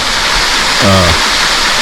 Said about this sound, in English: And this waterfall, just like a lot of other waterfalls in this area